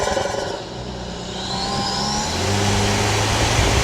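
Engine of a new Toyota 4Runner SUV droning while driving, a steady mid-pitched growl that rises slightly in revs partway through, heard from inside the cabin with no talk.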